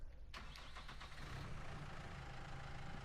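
Small tractor engine in Farming Simulator 19 starting up and then running at a steady mid-pitched idle, a rough continuous drone that holds even and fairly loud with no talk over it.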